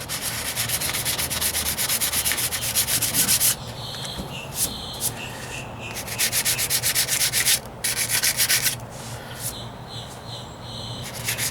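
Sandpaper rubs by hand over Bondo filler on the driver's side wheel arch of a 1998 Ford Ranger. Close, rhythmic scratchy strokes come in runs, broken by short pauses.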